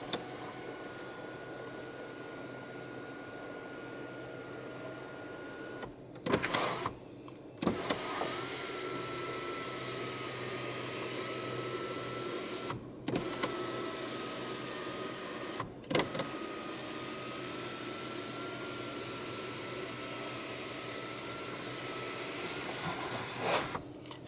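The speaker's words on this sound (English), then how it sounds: "you can open up the sunroof as a vent or in full depending on what you prefer" Electric sunroof and sunshade on a 2023 Chery Tiggo 8 Pro 390T opening inside the cabin, a steady motor whir running the length with a few sharp clicks and thumps as the panels start and stop.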